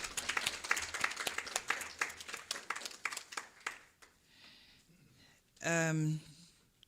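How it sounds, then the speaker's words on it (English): Conference audience giving a minister a round of applause at a procurement partnership event: scattered claps fade out after four seconds, then a brief voice follows. "Could you give the Minister another round of applause"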